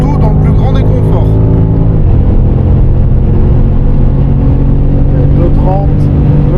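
A BMW M5 CS engine accelerating hard on a race circuit, a loud, steady roar with rising and shifting tones heard from inside the car.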